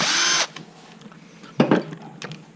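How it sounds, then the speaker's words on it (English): Power screwdriver whirring briefly to undo screws from a battery casing, one short loud burst followed by quieter clicks and clatter of handling the casing. "I need to remove these 4 screws from the casing here"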